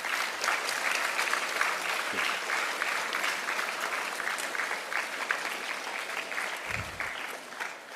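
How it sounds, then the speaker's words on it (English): An audience at a school Gonzaga Day 2023 event clapping for the volunteers, a sustained, even round of applause from many hands that carries on for several seconds. "So let's give clap to all of them."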